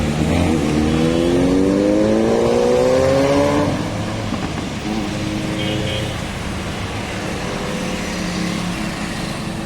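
BMW cars driving past one after another, a steady engine roar with one rising rev as a car accelerates away, close and loud, with a voice talking over it.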